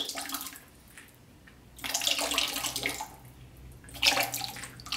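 Raw glaze pours over a pottery piece in two splashing bursts with a quiet gap between them, a close liquid rush with trickles and drips.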